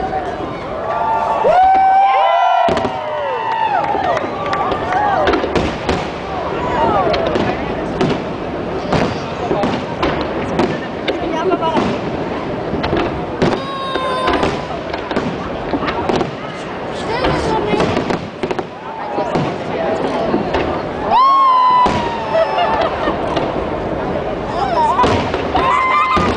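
Fourth of July fireworks bursting over Washington D.C., a dense stream of booms, cracks and crackles in rapid irregular succession, with crowd voices and chatter mixed in throughout.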